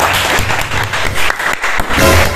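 A classroom of students applauding a classmate, with dense broadband clapping that is steady and close for a couple of seconds and has a slight dip midway.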